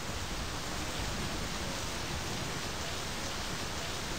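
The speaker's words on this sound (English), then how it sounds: "Oh, it's starting to rain." Rain beginning to fall in the video game My Summer Car, a steady, even hiss of rainfall without pauses or voices, moderately faint throughout.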